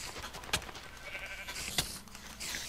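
Sheep bleating in the Minecraft video game on Xbox 360, two short high bleats about a second apart over steady game background noise.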